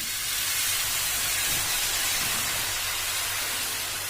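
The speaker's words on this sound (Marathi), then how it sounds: "चला आता त्याच तव्यावर थोडंसं पाणी घालायचं आहे सर्वात पहिले." Water poured onto a hot tava griddle, giving a broad, steady steam hiss that stays loud and even for several seconds, close by with no talk.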